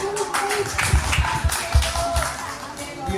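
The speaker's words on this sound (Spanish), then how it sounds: "Fuerte aplauso para Diego." An audience at a school tribute event claps for a child, a short patter of scattered applause heard close and moderately loud, with murmuring voices underneath.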